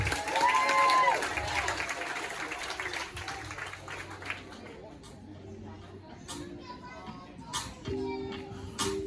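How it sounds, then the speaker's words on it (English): Wedding guests at McGovern's on the water in Fall River applaud and cheer, the clapping strongest at first and then thinning as a DJ's amplified voice and scattered chatter take over. "Give yourself one more big round of applause for coming out to McGovern's on the water."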